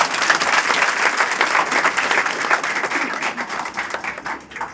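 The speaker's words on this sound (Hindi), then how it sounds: "तालियां बजाओ हिंदुस्तान की।" A crowd at a tricolour rally honouring the Indian armed forces claps loudly and continuously, the dense applause holding steady throughout with no speech over it.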